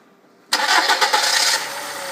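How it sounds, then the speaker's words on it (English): A petrol car engine cranks and catches abruptly, then settles into a steady idle, loud and close with no talking, during injector testing in a workshop. "I'm just going to start the car"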